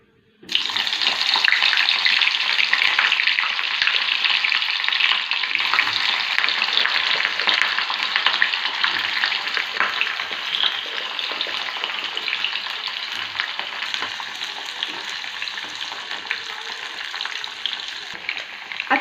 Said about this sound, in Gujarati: આ બધા શાકભાજી આમાં થોડાક ફ્રાય કરીશું.